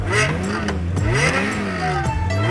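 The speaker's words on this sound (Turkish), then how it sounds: "Şu arabanın sesine bak." A loud car engine revs repeatedly, pitch climbing and dropping in quick surges, close by and unaccompanied by talk.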